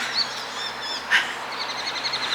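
Birds calling beside the river at Moulamein: faint high chirps and short tweets repeat over a soft outdoor background, with one brief louder call midway.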